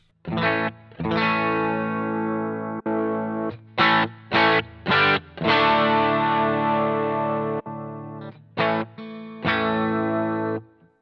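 Electric guitar through a Boss GT-1 match drive preamp, a driven, crunchy tone with chorus shimmer, played as a series of strummed chords and short stabs separated by brief gaps, loud and close with no talking.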